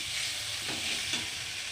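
Ginger paste and fish spices fry in hot oil with a steady bright sizzle and a couple of soft stirring scrapes, close up and without any voices.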